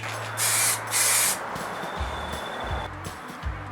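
Aerosol spray paint hissing in two short bursts onto a couple of bolts on a Triumph Tigress scooter under restoration, followed by quieter handling noises and faint background hum.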